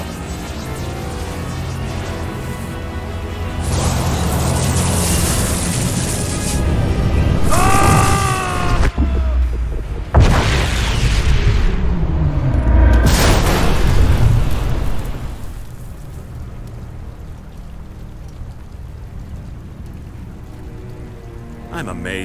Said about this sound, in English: You're destabilizing the boom tube!